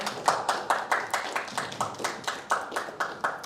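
Audience clapping at an election forum in Canberra, a brisk run of distinct, fairly close hand claps in a steady rhythm, about three per second, with no talk over them.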